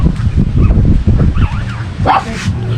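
A dog that has just given birth makes soft whimpers and small yips close by, mixed with rustling and brief human voices, the sounds irregular and uneven.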